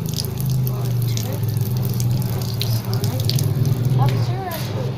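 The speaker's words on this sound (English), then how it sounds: "See, you can just wash it" An object being washed under running water, a steady close splashing stream with a faint voice at times.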